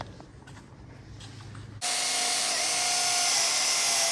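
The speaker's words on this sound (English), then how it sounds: "you want to get a step drill to drill this 5/8 diameter hole" A step drill whines into a panel on a Polaris Xpedition, cutting a 5/8-inch hole, starting abruptly partway through and running loud and steady with a high, grinding edge until the end.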